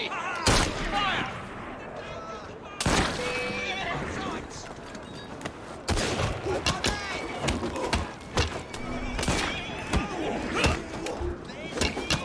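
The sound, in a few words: volley of pistol gunfire in Assassin's Creed Syndicate video game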